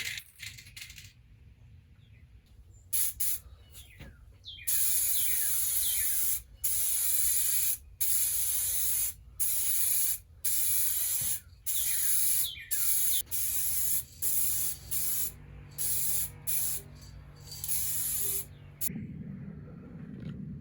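Aerosol can of clear gloss coat spraying onto a rusty metal chair in repeated bursts of loud, close hissing, each spray a few seconds long separated by brief pauses, with a different low noise at the end.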